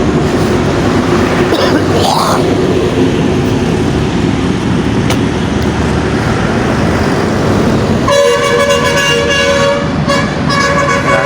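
Steady main-road traffic roars loudly and continuously in the early morning after dawn prayers, with a car horn tooting partway through and a longer sustained horn blast toward the end.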